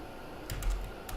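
Keys tapped on a computer keyboard, a few quick, faint clicks in a small cluster over a quiet room background.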